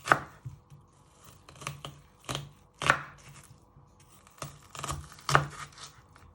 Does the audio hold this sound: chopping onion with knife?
yes